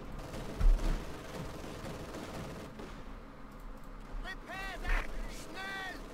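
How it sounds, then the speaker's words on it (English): Machine gun team firing in the World War II strategy game Company of Heroes 2, bursts of automatic gunfire and distant shots rattling through a busy battlefield mix, with a person talking over it. "Our machine gun team is doing a work on them right now."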